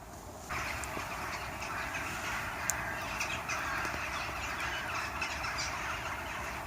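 Crows caw at dawn on a cold winter morning during a night fishing trip in Nottingham, a steady far-off chorus behind a constant broadband hiss, with no talk.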